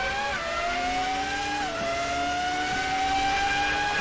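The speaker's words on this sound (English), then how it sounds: "That V12 sound amazing" A high-pitched Formula 1 V12 racing engine screams at sustained high revs during a race, its tone shifting slightly with gear changes, loud and continuous with no talking.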